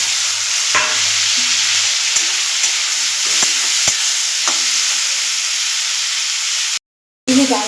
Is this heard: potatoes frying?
yes